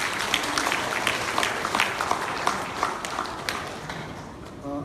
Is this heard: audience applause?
yes